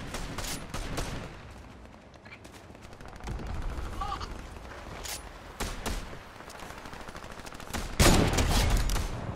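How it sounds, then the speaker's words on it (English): Gunfire in a Fortnite match: repeated bursts of rapid shots, some near and sharp, others more distant, with a loud cluster near the end. "I hear more shooting up here."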